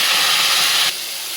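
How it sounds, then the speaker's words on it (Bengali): Spices fry in a pan for an egg curry, a loud, close hiss of steam and sizzle that cuts off abruptly partway through and leaves a much quieter hiss. "মশলাটা আমি ভালো করে কষাই নেব।"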